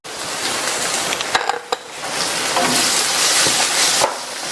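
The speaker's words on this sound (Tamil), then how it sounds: "மிதமான தீயில வச்சு இதை நல்லா வதக்கி விட்டுக்கங்க" Eggplant rice with masala sautés in a pan over a medium flame, giving a steady loud sizzle with a few stirring knocks from a utensil against the pan. No one talks.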